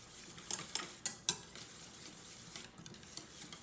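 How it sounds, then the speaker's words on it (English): A whisk taps and scrapes against a bowl while beating eggs, a few sharp clinks early on, then softer, quieter stirring. "And continue to whisk"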